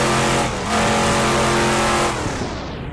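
A Corvette C8R race car engine revs loudly in a racing game at Bahrain International Circuit, a dense sustained roar that dips briefly and swells again before easing off at the end.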